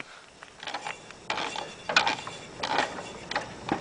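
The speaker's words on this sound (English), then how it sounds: "I'll turn the motor over by my hand and you can hear it" A mower motor turned over slowly by hand, with worn pulley bearings giving off irregular scraping, grinding and ratcheting clicks in uneven bursts, fairly quiet and close, with no talk.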